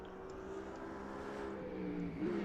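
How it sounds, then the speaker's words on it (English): A Mercedes-AMG GT3 race car engine at Laguna Seca drones faintly in the distance, a thin rising tone that swells slightly toward the end. "AMG, a beautiful car. Love that thing to bits."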